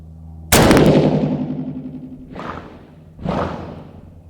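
A single loud, close rifle shot from a 6.5 PRC loaded with Vihtavuori N565 powder cracks out and rolls into a long echoing decay, followed by two softer, more distant thumping reports.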